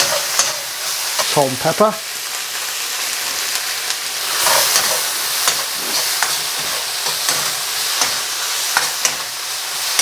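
Finely sliced onions sizzle and crackle in a hot pan for a salt and chilli beef dish, a loud continuous frying hiss with stirring scrapes. A voice speaks briefly over it near the start.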